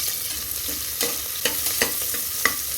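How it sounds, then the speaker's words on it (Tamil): Small onions fry in hot oil with popped mustard seeds and cumin, a loud, steady sizzle with a few sharp crackles and stirring scrapes, close up. "கடுகு பொரிஞ்சதுக்கப்புறம் வெங்காயம் சேர்த்துக்கிறேங்க"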